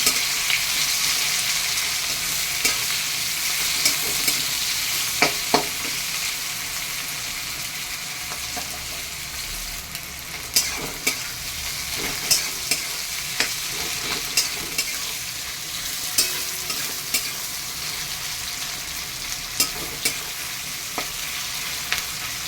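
Four large onions fry in a pan, making a continuous soft sizzle for over twenty seconds, with occasional sharp clicks and scrapes from stirring.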